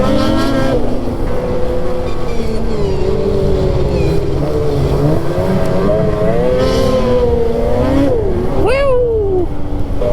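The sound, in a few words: four-wheeler ATV engine riding on snowy trail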